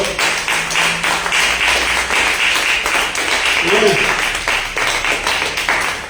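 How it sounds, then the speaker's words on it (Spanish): A church congregation claps together in praise, a steady dense patter of many hands filling the room, with some voices and murmuring mixed in beneath the clapping. "Dale un aplauso al Señor."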